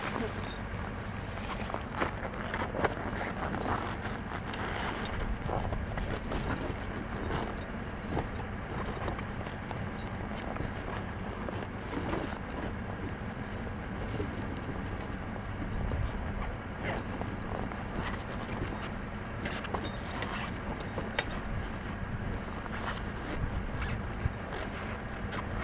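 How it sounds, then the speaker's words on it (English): Metal tire chain being thrown over the front tire of a truck at the edge of a swamp, a loose jangling clatter of links with scattered sharp clinks over a steady engine rumble and outdoor background noise. "Now that I'm pulled up on the chain, I'm gonna throw the front up over the tire."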